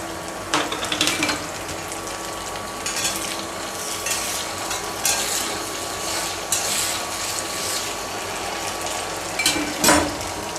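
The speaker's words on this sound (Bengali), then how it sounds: "এক মিনিটের মতো নেড়ে চেড়ে আমি কহিগুলো দিয়ে দিব" Sliced kohlrabi being stirred in a hot frying pan for an egg and kohlrabi stir-fry. A steady sizzle runs throughout, with scraping spatula strokes and a few louder clatters, and no voices.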